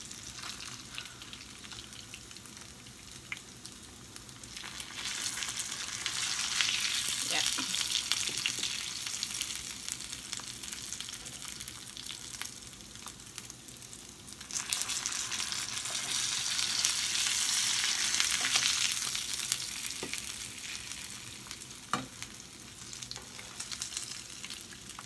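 Fish frying in a pan, a continuous sizzle that swells twice into louder hissing surges before easing, with a few faint clicks and knocks, close by with no talking.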